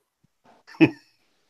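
A single sharp cough, close and fairly loud, preceded by a soft breath, then silence.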